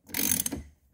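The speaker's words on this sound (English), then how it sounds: "you can put your ratchet on there and you can go ahead and ratchet it off." A single quick burst of ratchet clicks as a steering wheel bolt on a C7 Corvette is loosened, close and crisp, lasting under a second.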